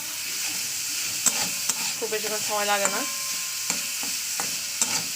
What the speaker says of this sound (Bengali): এটাকে আবার দু তিন মিনিট ভাজা করে নেবো